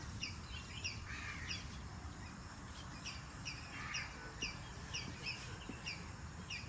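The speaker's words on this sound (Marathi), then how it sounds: "मस्त फ्रेश ग्रीनरी, शांतता, पक्ष्यांचे आवाज आहे फक्त." Several birds chirp and call in short repeated bursts over a soft, steady outdoor background hum from a riverside villa balcony amid greenery, fairly faint and without talking.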